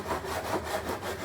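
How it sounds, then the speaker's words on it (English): A hand file rasps along a freshly cut edge to smooth off the fuzz, giving a few quick, close back-and-forth scraping strokes in a steady rhythm. "I'm just taking a simple file. It comes right off."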